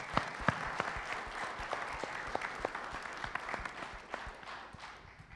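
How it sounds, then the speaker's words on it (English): A congregation applauds volunteers at a thanksgiving church service, a steady patter of many hands clapping at a moderate distance that gradually fades. "you deserve a round of applause."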